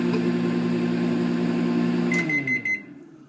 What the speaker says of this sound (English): While those are going in the microwave